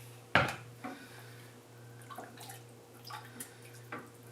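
A large can of diced tomatoes is emptied into a soup pot for homemade tomato soup, opening with one sharp metallic clank followed by soft wet plops and light knocks against a steady low kitchen hum.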